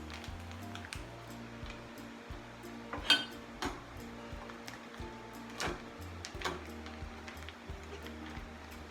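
A homemade liquid hand soap mixture being stirred in a container: irregular light clinks, taps and scrapes of the utensil against the sides, fairly quiet and close.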